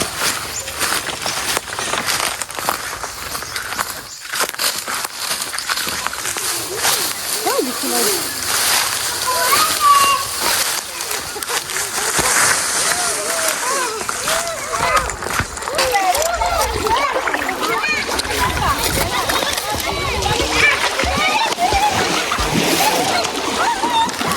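Water splashes and sloshes at a river as things are washed, a steady busy wash of splattering close by, with people talking throughout.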